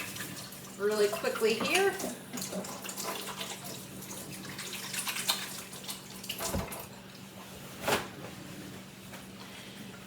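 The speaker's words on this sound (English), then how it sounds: "Wash my hands" Kitchen tap running as hands are washed mid-cooking, a steady close stream of water splashing in the sink under a person's brief talk, ending with a couple of small clunks.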